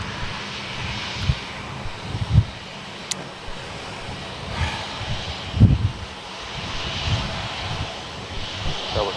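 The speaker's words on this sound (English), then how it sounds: "another 737-800 series" A Boeing 737-800 airliner at Melbourne Airport gives a steady, distant engine roar that rises and falls gently throughout, with a few low rumbling swells and no talk.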